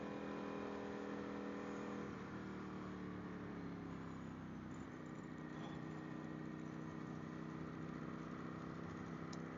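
A sport motorcycle on a track drones steadily as it rides through a corner, its engine note holding a continuous moderate hum that rises slightly, heard from onboard without anyone talking.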